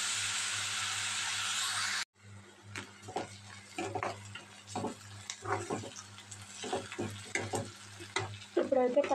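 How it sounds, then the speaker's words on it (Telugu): Onion and green chili pieces fry loudly in a hot pan with a dense, steady sizzle for the first couple of seconds, then quieter crackling and scattered stirring clatters follow. "ఇదిగోండి ఉల్లిపాయ ముక్కలు అయితే చక్కగా ఫ్రై అవ్వాలన్నమాట కొద్దిగా"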